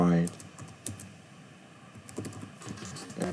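Quick keystrokes on a computer keyboard during spreadsheet work, scattered soft clicks at close range with a loud tap at the very start.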